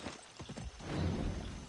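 Horse hooves clop in a quick irregular rhythm, followed by a rougher, louder rumble of horse noises, from a wild horse in the Far Cry 6 video game.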